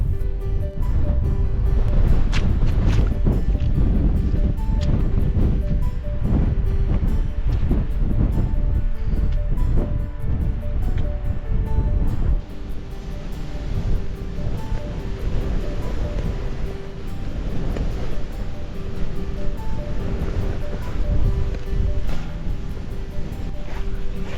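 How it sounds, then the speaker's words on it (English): Strong wind roars and buffets the microphone continuously, a heavy rumbling gusty blast with no letup throughout. "It is so incredibly windy."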